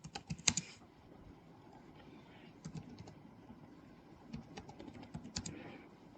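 Soft tapping on a computer keyboard while questions are typed, with irregular bursts of keystrokes and short pauses, quiet and close with no talking.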